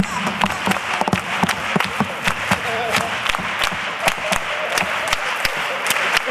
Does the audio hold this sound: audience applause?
yes